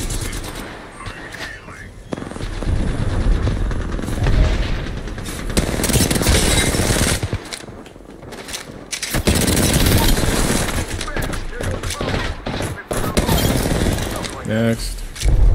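Rapid automatic gunfire and explosive bursts from a shooter video game fill the clip, loud and nearly continuous with short pauses, while a player talks over it.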